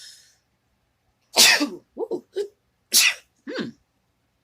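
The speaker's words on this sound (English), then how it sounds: "I'm sorry, I have to sneeze." A single close, sharp sneeze breaks the quiet, followed by a few short breathy sounds and gasps.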